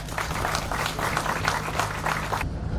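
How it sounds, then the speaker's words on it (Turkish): Applause from the audience at a Bornova municipality event reopening an animal shelter campus with HAYTAP, a dense steady patter of many hands for a couple of seconds before fading out. "Alkışlar Haytap'a."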